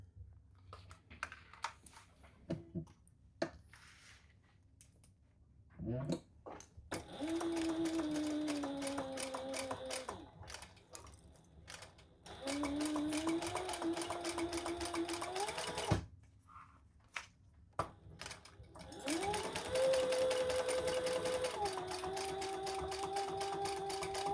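A sewing machine stitches the seam allowance of a crossbody bag in three sustained runs, each a steady whirring buzz with rising pitch, separated by quiet gaps with small clicks and handling noises.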